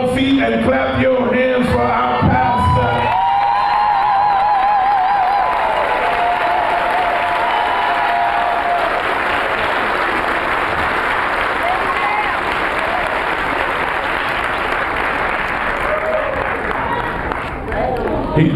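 Church congregation standing and clapping their hands during a praise service, loud and sustained, mixed with music and voices throughout.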